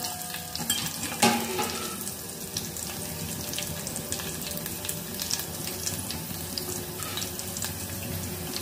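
Green chillies fry in hot oil for a curd chutney, a steady, close sizzle with a sharp knock early on and faint stirring sounds, with no talk.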